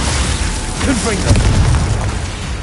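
Confringo fire spell blasting in Hogwarts Legacy during a duel, a loud rumbling boom swelling midway over dense game noise, with voices talking through it.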